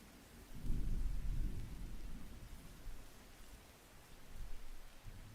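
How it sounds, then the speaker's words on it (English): Rolling thunder rumbles low and heavy in the background of a quiet indoor stream, swelling early, easing off, then building again near the end, with a faint rain-like wash throughout and no talking. "I feel like I need to turn it down because the thunder got a little loud"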